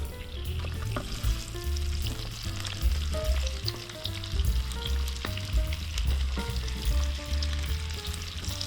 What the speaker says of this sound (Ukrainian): Можна додати трохи олії і обсмажуємо наші ковбаски